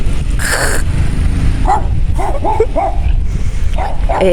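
A small, angry dog in an upscale residential neighbourhood of Criciúma, Brazil, gives a run of sharp, short barks and yaps in quick bursts, fairly close over constant traffic-like background noise.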